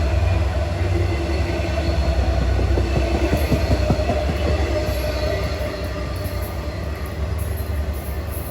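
A train rolls past at Forest Hills during rush hour, a loud continuous rumble of wheels on rail with faint high squeals and clatter throughout, up close and without voices.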